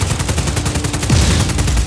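Rapid gunfire in a video game, a dense burst of repeated shots that runs steadily through the whole moment, loud and close over rumbling game sound.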